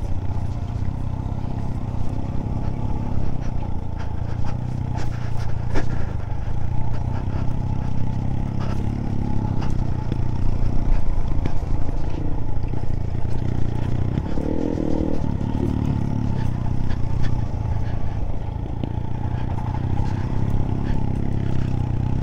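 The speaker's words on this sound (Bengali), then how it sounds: "চাকা স্কিড করছে" Motorcycle rolling down a rough mountain road with its engine droning and the tires skidding, scraping and clattering over loose stones, steady and close throughout.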